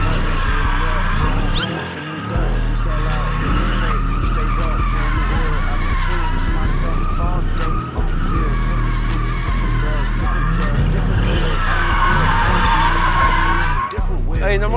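Car drifting in a circle with sustained tire squeal and skidding over a droning engine, loud and near, with brief dips in the noise and voices in the background.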